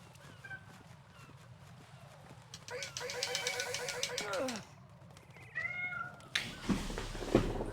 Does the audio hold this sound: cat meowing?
yes